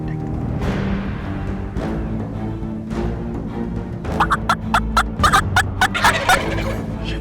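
Wild turkeys, big longbeards in early spring in Kansas, gobble in a loud burst of rapid, rattling calls that stand out over a low steady outdoor rumble.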